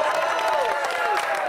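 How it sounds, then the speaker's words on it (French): A television game-show studio audience applauds in a dense, continuous wash of clapping, while a voice talks over it. "c'était le temps d'applaudir."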